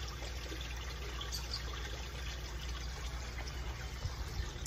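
Water trickling steadily in a koi pond kept moving by an aerator, a quiet continuous splashing and bubbling over a low hum, with no talk.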